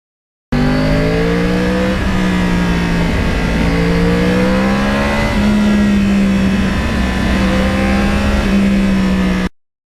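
A Yamaha R1 crossplane motorcycle riding back roads in lower New York, its engine droning steadily with rising and falling revs through gear changes, loud and close, continuous for nine seconds before cutting off.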